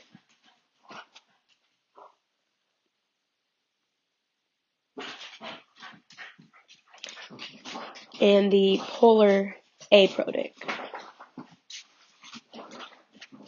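A dog whines and whimpers in short high bursts partway through, overlapping a person talking; the whimpers are close and fairly loud.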